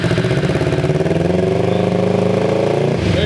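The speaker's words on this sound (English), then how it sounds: "We're gonna try and start this without the airbox on" A Ninja 250 motorcycle engine fitted in a go-kart, running without its airbox, idles with a loud, close, steady fast putter and a rising rev near the end.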